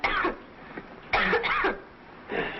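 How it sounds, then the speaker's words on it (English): Three harsh, raspy coughing bursts, close by, separated by short pauses, with some throat-clearing quality and no speech. "it's quite a cough you've got there"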